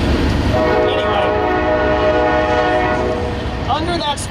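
A loud train horn blares in sustained tones over the rumble of a passing train, with a brief second horn blast near the end.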